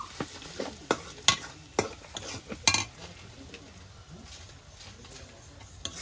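Food with turmeric cooks in a pan as a utensil stirs and scrapes, giving sharp clinks and clatters at an uneven pace over a soft, steady sizzle, heard close with no talk.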